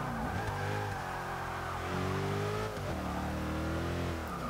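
A 2013 Mercedes-Benz E 63 AMG in Forza 6 surges under load, its engine note rising and falling in smooth, continuous revving sweeps with gear-change dips, loud and close with no talk.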